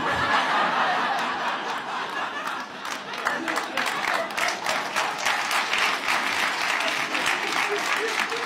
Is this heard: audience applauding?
yes